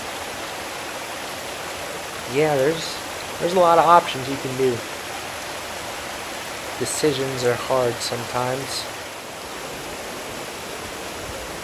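Fast-moving water rushes steadily through a waterfall stream in a continuous broadband wash, with someone talking over it partway through.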